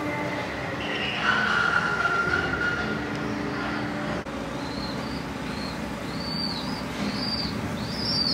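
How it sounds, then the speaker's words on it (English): Soft, scattered pigeon calls chirp and coo inside an abandoned building over a steady low rumbling background, fairly distant and not very loud. "Hear all the pigeons."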